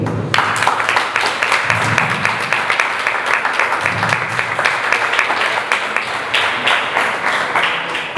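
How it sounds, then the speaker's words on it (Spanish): An audience at a diabetes gastronomy day breaks into strong, sustained applause, dense, steady clapping filling the room without pause. "Un aplauso muy fuerte."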